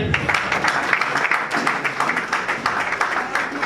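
Crowd applause at a political party gathering, a steady dense clatter of many hands clapping throughout, fairly loud and close, with no talk over it.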